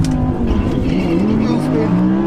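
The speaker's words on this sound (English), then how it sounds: "Wheel spin." An Audi R8 V10 Plus launching off the line at a drag race with wheel spin, its engine roaring loud and steady while tires scrabble for grip, with voices talking over the noise.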